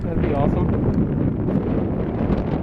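Wind gusts buffet the microphone at a winter campsite in the Boundary Waters, a loud, rumbling low roar under a brief spoken remark.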